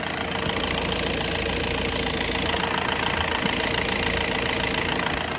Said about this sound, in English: I can hear the audible change in the engine.